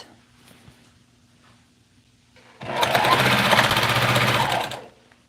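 A sewing machine stitches in one loud burst of about two seconds, starting after a quiet stretch and then stopping, close to the listener.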